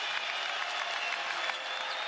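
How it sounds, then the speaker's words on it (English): A home crowd in a basketball arena applauds a departing player during an NIT quarterfinal game, a dense, steady wash of clapping that fills the space. "Brandon Carlson comes out with a nice ovation."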